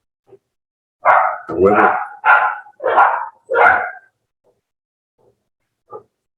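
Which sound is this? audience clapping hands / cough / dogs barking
dogs barking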